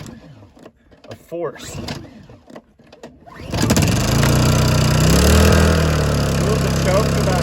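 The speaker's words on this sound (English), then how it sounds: "So we turn the choke to on, pull the lever." A Honda 2200 watt generator is pull-started with the choke on in cold Alaskan weather. Talk and handling noises come first, then the engine catches abruptly and settles into a loud, steady, close running drone.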